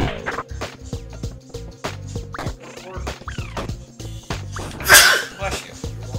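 A single sharp sneeze bursts out loud and close near the end, set against busy video-game music and effects from a zombie road-trip game.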